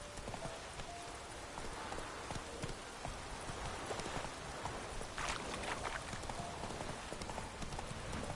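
Horse hooves galloping in The Witcher 3, a fast steady clip-clop rhythm running throughout at close range over a busy background hiss.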